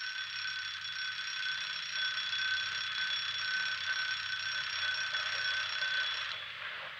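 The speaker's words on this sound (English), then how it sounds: "That's my little old alarm clock." An old mechanical alarm clock rings in a steady, shrill metallic trill for about six seconds before it cuts off, heard alone over a faint low hum in a 1949 Western film.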